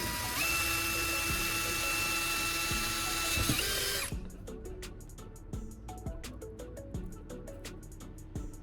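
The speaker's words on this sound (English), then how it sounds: "I'm drilling 2 holes through both ends of it." A power drill bores two holes through both ends of a part, giving a steady loud whine for about four seconds that cuts off, followed by quieter ticking and clicking mechanical sounds.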